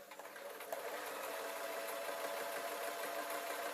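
A sewing machine stitches a rice-filled heat wrap, its motor humming steadily with a fast, even mechanical chatter, close and continuous with no talk.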